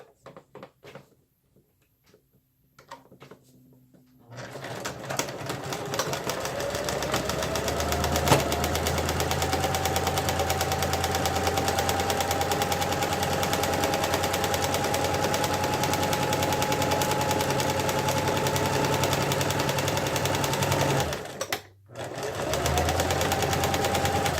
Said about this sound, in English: Okay, so we are totally done with the sewing machine.